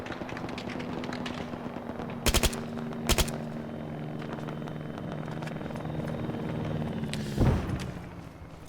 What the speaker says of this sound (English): Here we go, come the choppers.